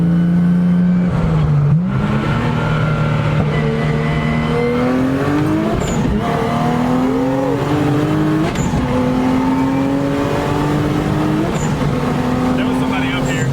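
Motor-swapped Nissan 370Z revving hard and building boost on the road, engine note climbing and falling through several pulls with turbo whooshes, loud and close from inside the car, with people talking over it.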